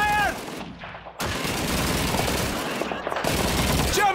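Heavy gunfire in the video game Call of Duty 2 battle, with sustained machine-gun bursts and overlapping rifle shots filling the scene, a brief lull early on, and shouted voices at the edges.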